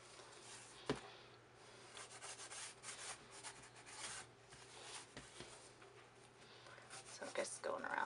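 A cloth rubs coconut oil into a leather fauxdori with a steady, soft scuffing and wiping sound, close and fairly quiet, in repeated short strokes with a few sharper knocks.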